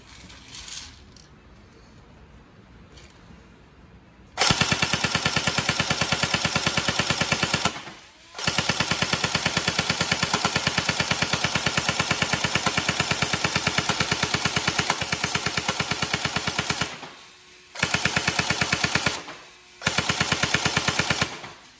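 A Tokyo Marui SGR-12 AES airsoft shotgun, upgraded, firing downrange outdoors in long rapid automatic bursts, loud and close, with short gaps between strings of fire after a quiet opening.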